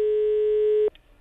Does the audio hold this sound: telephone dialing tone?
yes